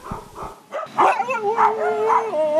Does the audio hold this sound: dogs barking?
yes